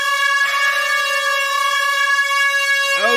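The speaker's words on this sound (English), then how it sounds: "Yeah, there was an air horn." An air horn sound effect blares on a livestream, a sustained, loud harmonic-rich blast holding steady for about three seconds before a brief downward-bending tail, heard alone without talk.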